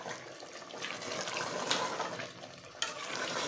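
Water is poured into a pot of fried potatoes and spices, a soft, steady splashing and gurgling pour that lasts a few seconds, fairly quiet and close, with no talk.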